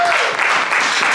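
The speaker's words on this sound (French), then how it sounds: "Nous acclamons très fort." A church congregation applauding loudly at an evening service, a dense, continuous wash of clapping from many hands that fills the room, brief and sustained without pause.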